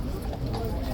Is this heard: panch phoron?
no